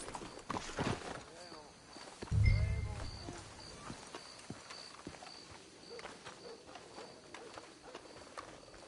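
Horses walk with a soft, irregular clip-clop of hooves in a PlayStation 4 video game, heard under character dialogue and faint ambient bird sounds.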